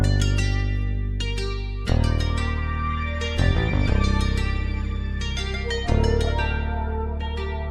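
Nylon-string guitar strumming downward chords together with a flute and a Rickenbacker bass, forming a full, steady instrumental blend with fresh strums marking the bar changes.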